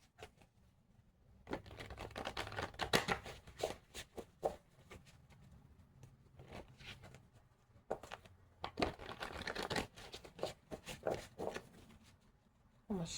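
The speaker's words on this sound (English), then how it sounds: "I'm gonna shuffle one more time." A deck of cards is shuffled by hand in repeated crisp riffling bursts with short pauses between, close and fairly quiet.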